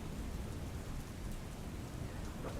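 Steady, dense rainfall in Umargam taluka of Valsad district, Gujarat, a continuous even hiss of drops with no pauses, heard alone without voices.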